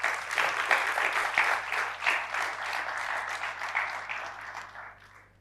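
Conference audience at a G20 India event breaks into steady, dense applause, sustained for several seconds before fading out at the end.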